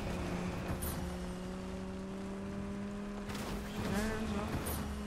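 Car engine humming steadily in the video game Fortnite, a sustained drone with a couple of brief higher whooshes and tire-like sweeps near the end, moderately loud under game ambience.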